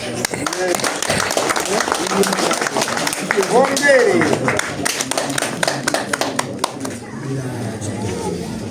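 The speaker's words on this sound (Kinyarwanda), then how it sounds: "Tuyihe amashyi." A church congregation claps steadily for several seconds, with voices mixed in under the applause as it gradually thins out.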